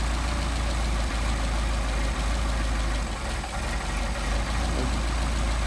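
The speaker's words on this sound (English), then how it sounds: "I'm going to start adjusting the idle mixture screws, and you'll be able to see how the idle changes." A Mercedes 190SL engine with Solex carburetors idles steadily and loud, a continuous low rumble with a slight dip in the middle as the idle mixture is adjusted, no talking.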